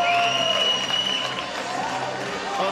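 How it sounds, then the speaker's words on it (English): Crowd at the Cage Warriors 85 fight night in Bournemouth applauding and cheering, a continuous loud wash of clapping and voices with a tone sweeping across it. "the crowd here in Bournemouth showing their appreciation for Luiz Finnochio"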